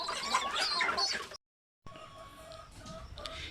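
Chickens clucking and murmuring at moderate distance on a netted poultry farm, a steady soft chatter that briefly cuts out and then resumes.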